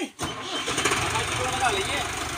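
A tractor engine cranks and catches, then settles into a steady, close mid-pitched running rumble.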